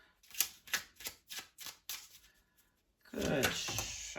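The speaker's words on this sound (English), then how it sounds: "Let's get a good shuffle." Tarot cards are shuffled in a run of crisp, evenly spaced riffling flicks, then a denser, louder burst of card noise near the end, all close up.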